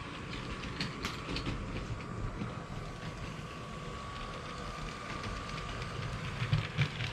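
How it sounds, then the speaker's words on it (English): A Lego train rolls steadily over track built from printed Lego bricks, a continuous low rumble with faint rhythmic clicks and a steady hum, fairly quiet, with no talking. "the trains go over it beautifully"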